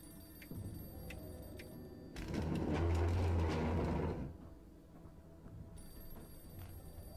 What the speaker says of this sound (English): the clock's playing games too now